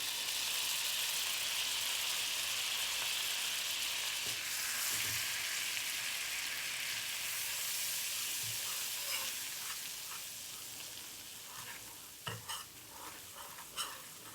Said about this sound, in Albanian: Edhe këtu gati një lugë miell, t'ia përhapim që të skuqet.